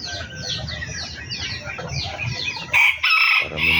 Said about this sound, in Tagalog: Ayan, may mga bantam tayo.